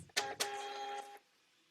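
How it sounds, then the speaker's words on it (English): A barcode label printer runs a short print job: two sharp clicks followed by a steady mechanical whirring hum for about a second, then it stops and leaves near silence. "let's go ahead and print it out and let's see how it does"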